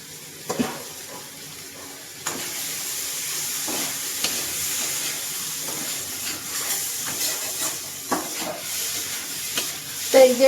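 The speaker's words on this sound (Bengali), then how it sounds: "এইভাবে কিন্তু আমি খুব সুন্দর করে কষিয়ে নেব" Bori, Bengali sun-dried lentil dumplings, being stir-fried with spices in a pan: a steady, close sizzle with repeated scraping strokes of a spatula at an uneven rhythm, and a brief voice near the end.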